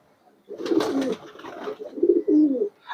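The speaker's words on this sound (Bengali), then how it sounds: "তো এখানেও কিছু কবুতর আছে মাশাআল্লাহ।" Racing pigeons kept by a veteran breeder in Narsingdi give a close, clear series of soft throaty coos, two longer phrases separated by a short pause.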